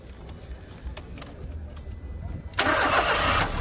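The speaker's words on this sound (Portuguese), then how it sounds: "pedi para um amigo da partida aqui no motor, para a gente escutar junto o ruído" A cheap used car's engine is cranked and catches, a short starter whir followed by a sudden steady running roar, close by, with someone speaking before it fires.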